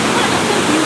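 A small waterfall in an African village rushes in a steady, loud broadband roar throughout, with no clear break.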